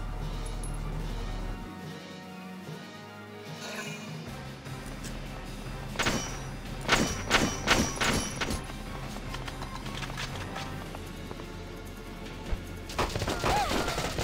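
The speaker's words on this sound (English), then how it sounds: "Machine gun" Gunfire bursts from a machine gun in the strategy video game Valkyria Chronicles Remastered, loud rapid volleys clustered in the middle of the stretch over a steady game soundtrack, with sharp impacts near the end.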